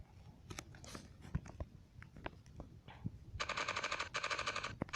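A machine gun in a Minecraft gun mod: scattered single shots and clicks first, then two loud, rapid, rattling bursts close up near the end, with no talking over them.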